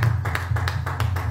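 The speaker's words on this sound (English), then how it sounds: "Come on, let's give God a hand clap." Congregation clapping in a church praise service: a quick, steady rhythm of hand claps over a low, sustained musical drone, with no voices.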